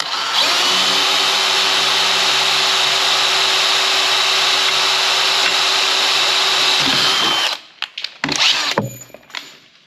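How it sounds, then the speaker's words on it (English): A power drill whines steadily and loudly for about seven seconds while drilling holes in a steel truck frame rail, then stops, followed by a few short bursts and clunks. "let's drill a couple holes here"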